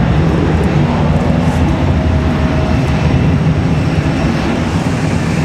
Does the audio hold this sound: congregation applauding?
no